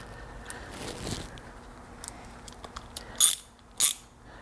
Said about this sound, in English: Now tighten your tensioner.